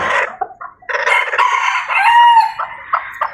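Bantam chickens cluck and crow close by, loud and clear, with choppy bursts of clucking rising into a drawn-out crow.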